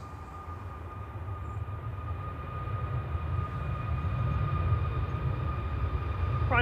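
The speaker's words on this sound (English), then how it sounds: "Ryanair to Bologna, flight 2242." A Ryanair jet departs Manchester Airport for Bologna, its low engine rumble building steadily in loudness over several seconds with a faint high whine on top.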